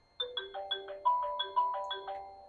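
A phone plays a melodic ringtone for an incoming call, a bright repeating sequence of chime-like notes, fairly quiet and alone with no voices.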